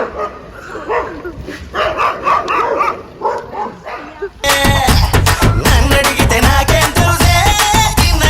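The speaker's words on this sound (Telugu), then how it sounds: "కుక్కలు అరుస్తున్నాయి" Several dogs bark loudly and repeatedly, with yips and whimpering mixed in. Voices and other dense noise sit under the barking, which becomes louder and busier in the second half.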